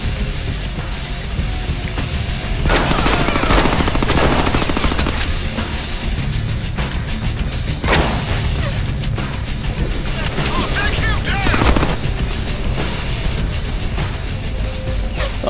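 Shotguns firing in the Deadpool video game, a dense barrage of loud blasts, crashes and explosions that continues throughout with brief surges, with a voice talking over parts of it.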